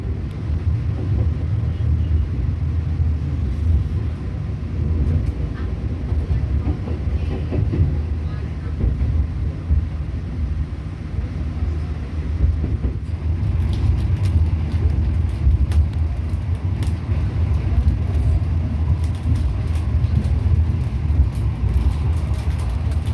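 A passenger train pulls away from Cirebon station, a steady low rumble of wheels and running gear filling the clip at close range, with occasional sharper clatter and rattling on the track throughout.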